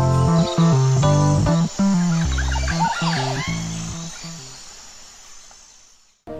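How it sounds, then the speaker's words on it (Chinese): Insects and birds chirp in a cool highland forest in Cameron Highlands, Malaysia; scattered quick chirps and a steady insect buzz sit under a louder layer of music. "在高山和森林里，除了空气特别的新鲜，气候凉爽，虫鸣鸟叫的声音更是不绝于耳"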